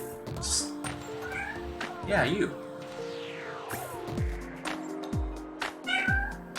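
A cat meows several times in short, fairly close calls, mixed with a few spoken words and background household noise.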